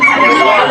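Poultry at a village market, where a single loud, close chicken call or rooster crow fills the whole brief moment.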